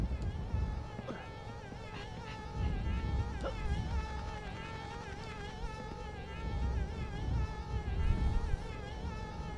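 Steady insect-like buzzing of cartoon bees in the Nintendo 64 game Conker's Bad Fur Day, a continuous wavering drone with layered game music tones running through the whole stretch at moderate level.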